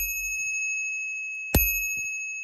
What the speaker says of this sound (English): this bell, the ringing lasts a bit longer, it's a little bit more crisp